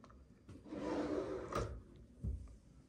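Soft-close drawer of an IKEA LOMMARP cabinet sliding shut, a smooth wooden rub that slows and settles, then a soft muted bump near the end, close by in a quiet room with no talk.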